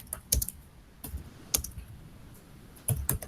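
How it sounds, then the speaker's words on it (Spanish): Quick bursts of typing on a computer keyboard, a few clustered key clicks separated by short pauses, close and fairly faint in a quiet room. "Ahí está tecleando, Alan."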